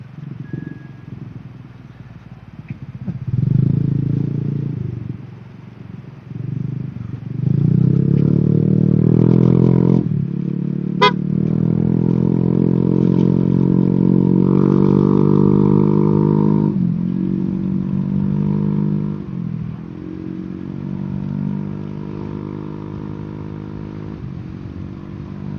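Motorcycle riding along a rough provincial road in Tiaong, its engine rising and settling as it revs, with rumbling and scraping from the bumpy surface and one sharp clink midway.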